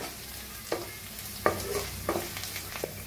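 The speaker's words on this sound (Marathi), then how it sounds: "आता मसाला छान भाजायला लागलाय" Masala frying in a pan for an aloo bhindi dish, a soft steady sizzle broken by several distinct spoon scrapes and stirs at irregular intervals, close up with no talk.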